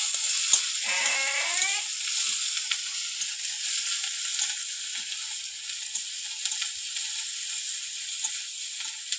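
Onion, ginger, garlic and green chili sizzling in hot oil for a duck egg curry, a steady soft hiss with a brief clink near the start.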